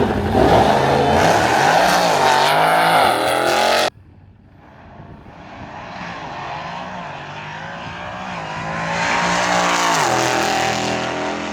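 A Hellcat swapped with a Demon 170 engine drag races on a strip at over 150 mph, giving a loud, close engine roar that cuts off abruptly, then a more distant rising engine note that swells again.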